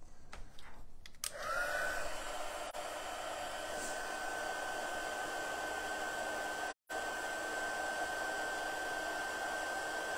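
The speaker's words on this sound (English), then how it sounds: "I should put the lid back on this embossing powder before I turn on my heat tool." A heat tool blows steadily over embossing powder, a close, loud, even whirring roar with a thin whine that starts after a brief click and runs on, dropping out for a split second midway.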